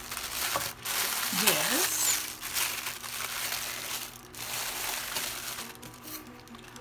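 Paper and small items rustle and crinkle up close as they are gathered and slid into an envelope, with bursts of crumpling that rise and fall, while a voice briefly speaks over part of it.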